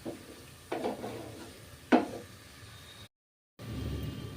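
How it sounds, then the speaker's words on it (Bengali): A spoon stirs chicken bharta with ground coriander and spices in a pan, making a few soft scrapes and clinks against the metal over a low sizzle, faint and close. "এবার ভালো করে নাড়ব"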